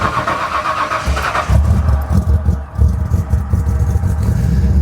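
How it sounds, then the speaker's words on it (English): A Ford Bronco with a 5.8 liter 351 Windsor V8, shorty headers and a custom MagnaFlow true dual exhaust cranks over and fires up, settling into a loud, deep, lumpy idle heard close without talk. "Let's start this thing up."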